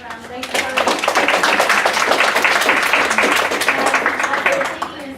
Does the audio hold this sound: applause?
yes